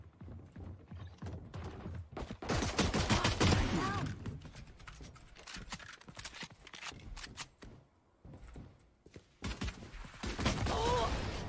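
Gunfire and action from a round of the tactical shooter Valorant, bursts of clattery shots and mechanical clicks coming in uneven clusters, with loud stretches between quieter pauses.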